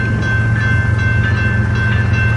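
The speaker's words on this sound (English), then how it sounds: "Here comes westbound coal drag, another coal drag." BNSF westbound coal train, a long drag on the transcon line at Lincoln, Nebraska, rumbling steadily past with a deep low drone and a sustained high ringing tone, continuous and close throughout.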